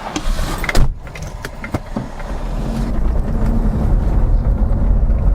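A silver 1978 Volvo 262C Bertone with a black vinyl top sets off for a drive, with a few clicks and knocks from the car followed by a steady, rising rumble of motion and wind close to the microphone.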